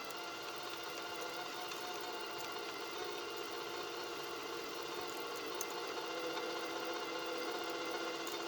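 Wire feed motor of a RILAND MIG welder running steadily, a constant close mechanical whir and hum with no pauses, no voices.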